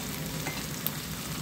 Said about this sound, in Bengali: আঁচে রেখে আমি একটু নাড়াচাড়া করে দিলাম